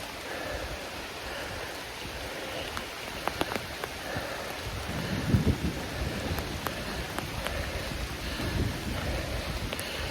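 Steady rain pattering on surfaces on the Piney Cove Trail at Panther Creek State Park, with a low rumble of thunder rolling in midway, wind faintly in the background, no voices.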